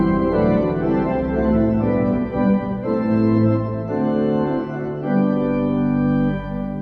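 Chancel great plenum on a pipe organ, a broad sustained full-organ chord progression with strong low and middle tones, steady and loud throughout, no voices.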